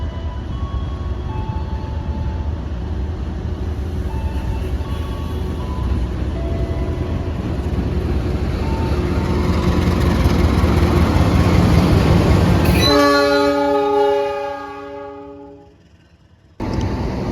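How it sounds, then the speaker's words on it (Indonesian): Malabar passenger train rumbling steadily past at a station in Tasikmalaya, the loud, close roar of rolling cars building over many seconds, then a sustained horn-like tone near the end before the noise drops away abruptly. "Nah dia kereta api Malabar sudah terlihat teman-teman"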